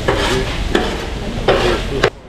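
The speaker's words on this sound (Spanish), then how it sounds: "Ahí lo pica bien chiquito y después lo mezcla" A street vendor mixing finely chopped food on a hot griddle, with a continuous sizzle and a few sharp metal scrapes and taps of a utensil at regular intervals.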